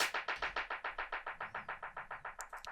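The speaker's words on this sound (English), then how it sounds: "I think it's just a Lin, the clap from the Lin drum" LinnDrum clap sample run through an Echo Boy delay: a steady train of about seventeen crisp, bright claps repeating evenly, each decaying into the next, with a couple of faint high ticks near the end.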